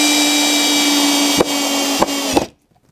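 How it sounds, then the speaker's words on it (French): Power drill whines steadily while driving a screw into pre-drilled wood, dipping briefly under load twice before a final clunk and sudden stop into silence; close and loud. "visser la vis."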